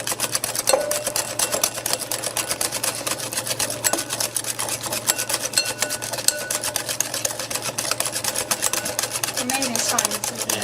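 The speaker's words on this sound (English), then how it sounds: "I'll just continue adding the oil in whilst I stir" Oil is hand-stirred into homemade mayonnaise in a bowl without a blender or mixer, giving a fast, steady, rhythmic clatter that runs loud and unbroken throughout.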